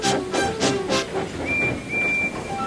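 A steam engine lets off steam in a run of four quick, forceful hissing bursts, followed by a thin, steady whistle-like tone that carries on alone.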